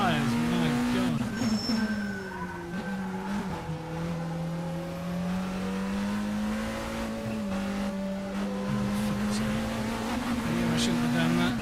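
Race car engine in Assetto Corsa during an SROL Le Mans Series round at Nogaro, a continuous droning note rising and falling with occasional tyre scrub, while someone talks over it.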